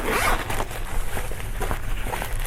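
A small zipper pull on a Chanel tweed gift set is pulled in several quick, scratchy strokes, close up and fairly loud.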